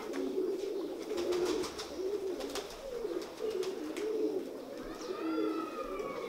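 A female Indian Kamal pigeon coos in a steady run of repeated low, throaty coos, close and clear, with faint rustling and brief higher chirps near the end and no speech.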